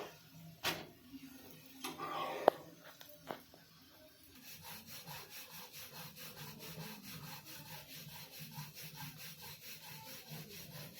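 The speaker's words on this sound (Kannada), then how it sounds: "ಹಿಂಗೆ ಚಪಾತಿ ಲಟ್ಟಿಸ್ಬೇಕ್ರಿ ಗರ ಗರ ಅಂತೇಳಿ" A rolling pin presses chapati dough on a board, starting with a few separate knocks and thumps and then settling into a steady, quiet rhythm of soft rubbing strokes, repeated back and forth at close range with no talking.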